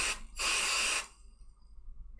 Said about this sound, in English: Set that with some freeze spray.